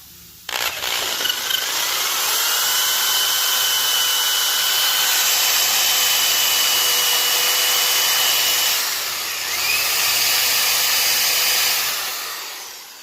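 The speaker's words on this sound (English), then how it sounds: "I take that 5/16 drill bit and just drill it on back" Power drill with a 5/16 bit boring out a rivet on a 1967 Chevy Impala convertible during restoration, a loud steady whine that starts suddenly, dips in pitch under load midway and winds down at the end.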